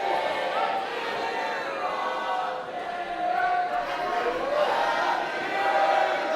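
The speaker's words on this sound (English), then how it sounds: "The crowd serenading the birthday boy, Krofton." A wrestling crowd at an indie holiday show sings together for a birthday boy, a broad swelling chorus of many voices filling the arena, rising and falling over several seconds.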